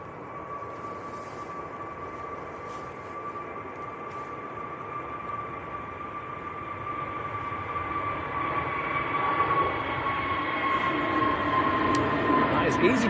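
An EasyJet airliner begins its takeoff roll at Manchester Airport, its engines a steady distant roar with a high whine that slowly builds louder, on a windy day, with talk present beneath it.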